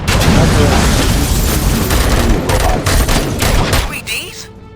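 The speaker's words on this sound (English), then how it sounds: "Gunshots? What's going on?" Rapid gunfire and booming shots fill a RoboCop: Rogue City firefight, loud and continuous, before tapering off near the end.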